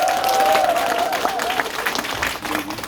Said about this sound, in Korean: 박수 한번 치고 시작하겠습니다.